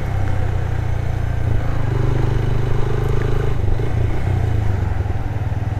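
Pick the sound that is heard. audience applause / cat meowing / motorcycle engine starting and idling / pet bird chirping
motorcycle engine starting and idling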